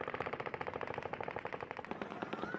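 Recorded gunfire from the Las Vegas shooting, a sustained automatic burst of rapid, evenly spaced shots, loud and continuous throughout.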